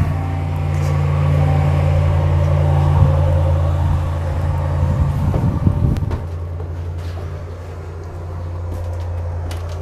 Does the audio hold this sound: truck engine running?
yes